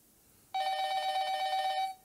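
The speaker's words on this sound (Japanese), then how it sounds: "電話が" An electronic telephone ring sounds in a life-advice game, one sustained warbling trill lasting about a second and a half. It is loud and clear against near silence, with no talking.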